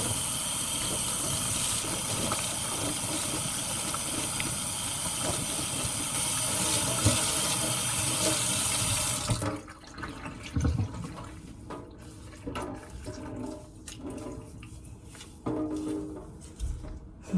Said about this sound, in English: let's rinse out this conditioner and then see how it all turns out